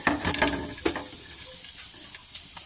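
Rice grains sizzling and hissing as they fry in a pan, a steady crackling bed with a few louder stirring scrapes near the start and end.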